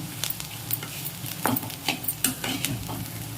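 Ivy gourd pieces fry in hot oil with garlic and curry leaves, and a loud steady sizzle runs throughout while a spoon scrapes and stirs the pan in short repeated strokes, close up and without talk.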